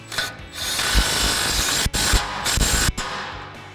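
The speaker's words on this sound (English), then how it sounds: "we'll use our 19mm socket on our impact to tighten this down" Impact wrench with a 19mm socket driving a factory castle nut tight on a Toyota Tacoma suspension, several close rattling hammering bursts broken by brief pauses.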